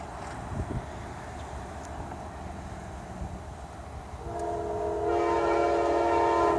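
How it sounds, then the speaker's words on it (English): Amtrak 92 passenger train approaching a road crossing at speed, with a steady rising rumble of wheels and wind, then a loud sustained horn sounding at close range. "We have Amtrak 92 departing Tampa."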